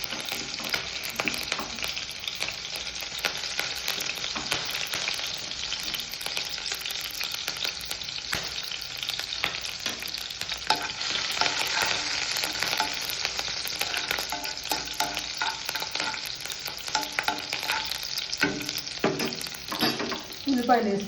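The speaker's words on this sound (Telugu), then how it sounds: "ఆయిల్ హీట్ ఎక్కింది, ఇప్పుడు పచ్చిమిర్చి వేసుకుందాం." Green chillies fry in hot oil, a dense continuous sizzle and crackle with occasional stirring scrapes, close and steady throughout, no voices.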